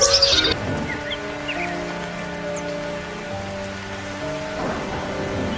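Cartoon rainstorm with steady rain hiss and a rumble of thunder at the start, set under a soft musical bed with occasional bird-like chirps, moderately loud throughout.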